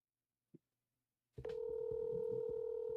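A soft click, then after a pause a steady electronic telephone tone starts and holds continuously, fairly quiet and alone.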